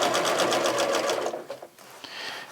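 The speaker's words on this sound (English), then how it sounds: "turn it around, and start stitching down this next side." A sewing machine stitches down the next side of a quilt, its needle running in a fast, steady rhythm for over a second before slowing and stopping, then a brief restart, close and clear with no talking.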